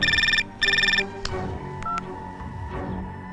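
Two loud, close telephone keypad dialing tones sound in quick succession, followed by scattered clicks and brief electronic beeps as a call is placed.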